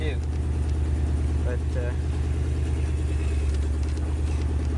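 An engine idles steadily on wood gas after a no-gasoline startup, a low, even rumble holding throughout with someone talking over it.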